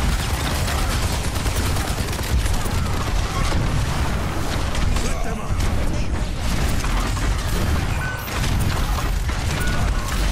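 Soldiers trade rapid, continuous gunfire in a video game battle, dense bursts and mechanical clatter filling the whole stretch at steady high loudness with no pauses.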